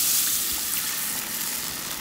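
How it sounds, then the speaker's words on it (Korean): Water pours steadily into a pan of seasoned meat and mushrooms, a continuous close hiss and gush with no voices. "너무 많이 익히지 말고 물을 부어주세요."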